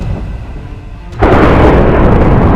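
A video game grenade from a nuclear weapon mod detonates with a sudden loud boom about a second in, followed by a sustained roaring blast rumble that fills the rest of the moment.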